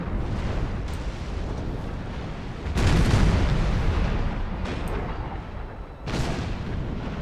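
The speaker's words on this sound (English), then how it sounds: "Seahorse here, though, is mounted up and just firing onto Geograph" Cannons on sailing warships of the line firing in a Napoleon Total War Trafalgar battle, a continuous rumbling barrage of deep booms with heavier blasts swelling midway and near the end.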